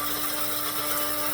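Continuous high whirring grind of an electric coffee grinder working through coffee beans, steady and close with a faint motor hum beneath, no pauses and no voices.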